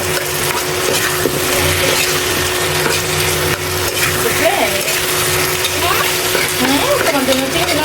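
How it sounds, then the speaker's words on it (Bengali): Shrimp heads are sautéed in spices for kosha, with a continuous loud frying hiss and repeated scraping and clattering of a spatula in the pan, plus faint voices in the background. "ওই জন্য চিংড়ি মাছের মাথাটা আলাদা করে রাখছি। এটা কিছুক্ষণ এবার কষাবো"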